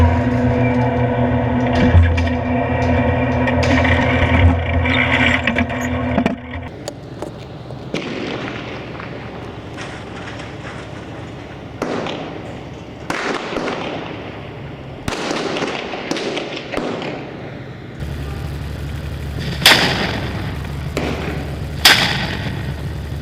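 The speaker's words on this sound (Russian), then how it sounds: "Еще один выстрел осколочно-фугасным," A tank fires high-explosive fragmentation shells into the ruins of a school during urban fighting in Jobar, Syria, producing sharp, loud blasts at irregular intervals, each with a booming rumble and echoing debris crackle across about twenty seconds.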